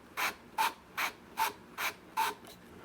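A guitar neck end veneer is rubbed with 320-grit sandpaper in six even back-and-forth strokes at a steady rhythm, close and clear with quiet gaps between passes and no talking.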